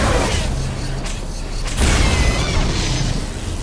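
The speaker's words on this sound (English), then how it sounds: "So let's lob a grenade at it." A grenade in Star Trek: Elite Force II goes off partway through as a single loud blast, rising sharply out of a steady background rumble and then fading back.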